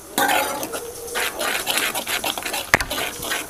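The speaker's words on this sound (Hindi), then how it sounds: "ये जो क्रीम है इसको भी हमने अच्छे से चला लेना है, जिससे कि ये अच्छे से इसमें भून जाए।" Cream being stirred into a paneer curry in a pan over high flame, with steady scraping and clinking of a spoon against the pan, a faint sizzle beneath and one sharp knock near the end.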